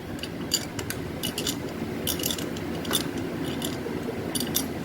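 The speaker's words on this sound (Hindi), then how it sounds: "ये जो लाल कैप लगी हुई है इसको हटा के, और इसमें लगेगा 16 नंबर का रिंच। इसको यहाँ से खोल दो।" A 16 mm wrench works the spark plug loose on a Hero Honda Passion Pro motorcycle, producing irregular close metallic clicks and clinks over a low steady background.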